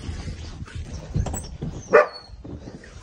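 Several dogs bark and yip outdoors on a farm with llamas and ferrets, a few sharp barks in the middle distance with one louder yelp standing out.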